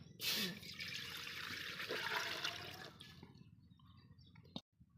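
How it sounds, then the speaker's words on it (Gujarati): Measured water poured into a cooking pot while making lapsi, a loud splashing pour that starts abruptly, runs for about three seconds, then tapers off with a final small clink. "હવે આપણે મૂકી દઈશું તપેલું અને એમાં નાખી દઈશું આપણે આ જે માપ કરેલું પાણી છે"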